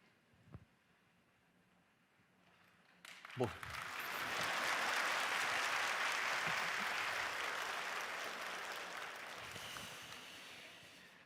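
Applause from a church congregation swells from a few scattered claps into sustained clapping for worship music, staying loud for several seconds before slowly fading.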